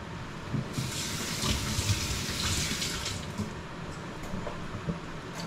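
Water runs steadily from a tap into a pot holding eggplant, a continuous broadband gush with a brief fuller surge early on, close by and moderately loud, with no talking.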